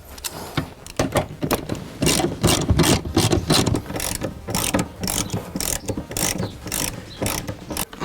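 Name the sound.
small ratchet tightening race seat bolts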